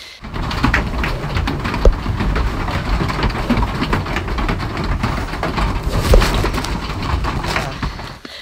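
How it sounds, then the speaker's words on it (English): Heavy rain drums steadily on the roof of a trail shelter at night, a dense, continuous patter with scattered sharper drips and taps throughout. "I tried making a recording of the rain on the shelter because it was really noisy in the night"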